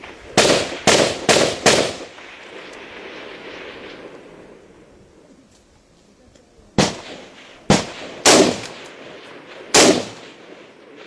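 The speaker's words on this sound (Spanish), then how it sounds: "Le estamos disparando al norte." Loud gunfire and mortar blasts in a combat firefight, with sharp reports in quick bursts early on, then a lull filled with rumbling echo before more separate heavy shots crack out at close range.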